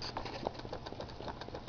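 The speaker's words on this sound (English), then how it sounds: "here's another interesting effect on this Stirling engine." A small Stirling engine running on stored heat on a living room table patters with a steady rapid mechanical rhythm, faint and close with light rattling.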